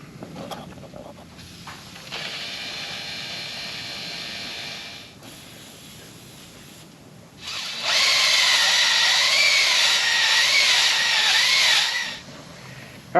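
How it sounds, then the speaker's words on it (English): A dingle ball hone spun by a power drill works inside a junkyard HEMI engine cylinder, giving a steady whirring grind in two runs, the second louder and rougher with a wavering pitch. "Let's put the old dingle ball hone to work."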